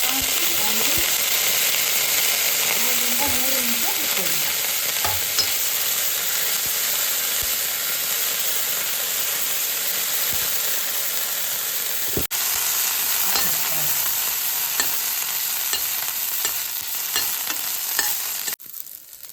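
Cumin seeds and ixora (kepala) flower petals sizzle steadily in a hot pan while being stirred, a continuous close frying hiss with occasional scraping clicks of the spoon, no talking.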